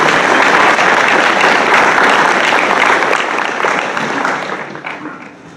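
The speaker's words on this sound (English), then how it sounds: "I think a round of applause is appropriate" Applause from a large supercomputing conference audience, loud and dense at first, then gradually thinning and fading toward the end.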